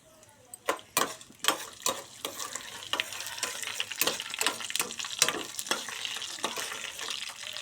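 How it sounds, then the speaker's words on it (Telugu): Tempering spices hit hot oil on a stove and sizzle loudly, with sharp crackling pops and stirring clatter in repeated bursts, no voices. "ఆయిల్ వేడైన తర్వాత ఈ పోపు దినుసులు వేసుకోవాలి"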